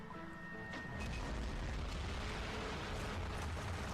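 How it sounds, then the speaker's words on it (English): A big explosion in the motorbike video game Trials Evolution: a loud, dense, sustained rumbling roar that swells after the first second and carries on steadily, with no talking. "I actually remember the big explosion at the beginning"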